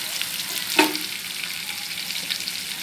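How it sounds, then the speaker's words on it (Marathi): Onion fries with cumin and mustard seeds in hot oil, a steady close sizzle with one brief metallic stir or clink near the start. "कांदा लाल वाळून द्यायचा"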